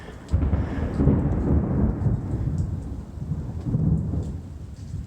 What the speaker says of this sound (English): Lots more thunder.